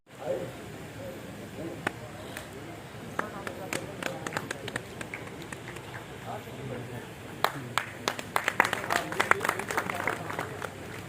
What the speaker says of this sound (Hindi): आप लोग तालियां